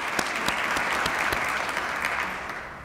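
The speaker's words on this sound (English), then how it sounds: "could we give Paul a round of applause and thank him for his support?" An audience at an academic leadership lecture applauds, steady close clapping from a full room that carries on for a few seconds and then starts to fade.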